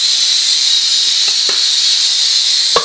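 A pressure cooker cooking chickpeas and potatoes hisses steam loudly and continuously, a steady close-up whoosh with a few faint clicks and knocks underneath.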